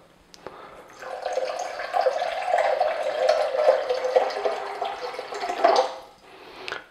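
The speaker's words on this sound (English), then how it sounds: "now to make this up to 1 kilogram, we just add water." Tap water runs into a container to bring a percent solution up to one kilogram total, a steady pouring and splashing that starts after a second, holds for about five seconds and trails off, with no talk.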